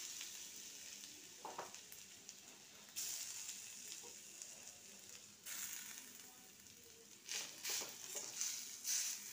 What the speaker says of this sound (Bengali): এবার কড়াইতে যে ঘি দিয়েছি আমি আলুগুলো এবার ছেড়ে দেবো।